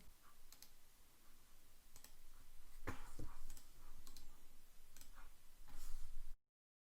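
Computer mouse and keyboard clicks selecting a text string in a Splunk setup, a run of sharp close taps and clicks at irregular intervals, with a couple of louder clicks near the middle, over faint room hiss and no talking.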